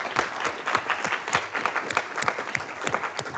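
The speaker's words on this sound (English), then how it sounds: "So big round of applause for all of them." Audience applause for the team that built Excode as they gather on stage at a Python education event: dense, sustained clapping from a crowd, steady and fairly loud throughout.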